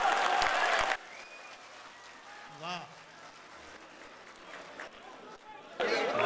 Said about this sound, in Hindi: जोरदार तालियों से हमें बताइए